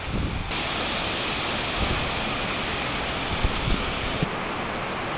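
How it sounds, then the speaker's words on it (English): Heavy rain pours down steadily outdoors at a construction site, a dense, loud broadband hiss with scattered sharper drops and splashes throughout, no voices. "now it's pouring"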